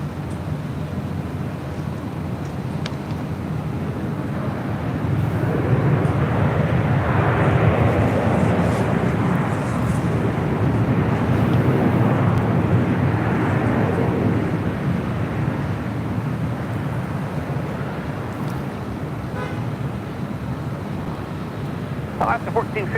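At LAX, an airliner bound for Atlanta roars on departure as a broad, distant rumble that swells and fades over many seconds. Wind noise runs underneath, and radio-style voices come and go around it.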